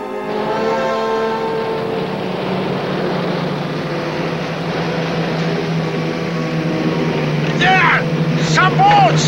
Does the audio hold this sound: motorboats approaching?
yes